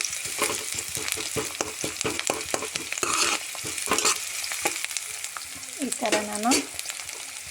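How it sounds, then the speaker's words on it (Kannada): Onions fry in a pan with a constant close sizzle, broken by quick rhythmic scraping strokes of a spoon against the pan, and a brief voice speaks briefly over it near the end. "ಉಳ್ಳಾಗಡ್ಡಿ ಹಾಕಿ ಹಿಂಗೆ ಹುರ್ಕೊತೀನಿ ನೋಡಿರಿ."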